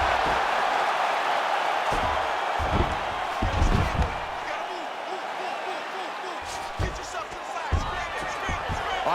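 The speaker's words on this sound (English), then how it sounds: "Oh, slams him to the ground." A heavyweight MMA bout between Daniel Cormier and Brock Lesnar, with a fighter slammed to the ground; several dull thumps and impacts land under steady commentary and a loud, continuous arena crowd.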